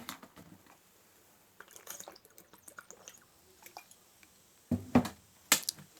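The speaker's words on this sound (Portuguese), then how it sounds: "Esse período, eu vou tomar minha água aqui." Someone drinks water close to the microphone, with a few faint sips and then louder gulps and swallowing sounds between quiet pauses.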